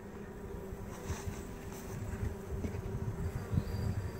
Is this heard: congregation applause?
no